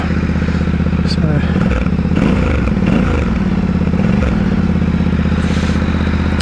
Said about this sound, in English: your standard T700 sound, same muffler and engine